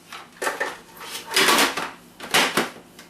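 A metal ice cream maker bowl is fitted into place and locked, giving three loud clattering metallic knocks and scrapes, close by, with no talking.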